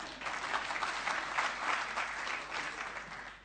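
Steady, dense applause from a large crowd at a Kenyan political rally, sustained and fairly loud throughout with no voices standing out.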